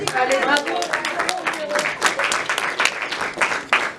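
A premiere audience at a film screening claps in uneven bursts while a presenter keeps talking over the applause, the clapping rising and falling in short waves.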